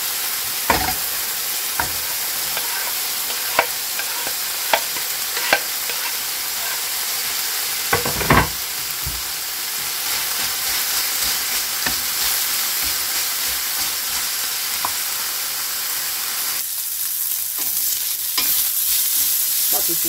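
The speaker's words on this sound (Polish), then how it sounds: "Boczuś nam się zaczyna pomału przysmażać. Dodajemy naszą cebulkę." Diced bacon and onion sizzle steadily in a frying pan for a zucchini bake, with a utensil repeatedly scraping and stirring in irregular clacks over the constant hiss.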